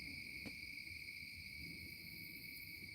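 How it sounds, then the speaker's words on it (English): An owl hoots once, faint and distant, in a night setting over steady insect trilling and background hum. "Did anybody else hear the owl?"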